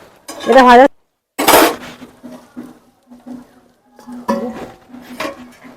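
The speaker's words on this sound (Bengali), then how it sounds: "এইভাবে নেড়ে চেড়ে ভেজে নিতে হবে" A utensil clanks and scrapes against a pan as bread pieces are stir-fried in ghee on a low flame, with two loud metallic bursts followed by quieter intermittent clinks close up.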